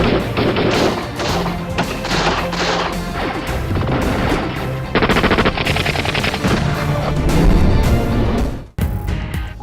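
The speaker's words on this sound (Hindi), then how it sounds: "भारतीय फौज की चकोटी सेक्टर में बिला इश्तियाल फायरिंग" Heavy gunfire from cross-border firing in the Chakoti sector, loud and dense machine-gun bursts with booming impacts, continuous for most of the stretch before a brief drop near the end.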